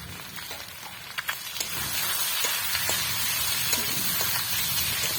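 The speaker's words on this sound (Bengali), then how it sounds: "ওদিকে বৃষ্টি এমন হইতেছে" Steady rain falls outside near a home kitchen during cooking, a dense continuous hiss with scattered light taps and drips, fairly close and growing slightly heavier, with no voices.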